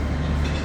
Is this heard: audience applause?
no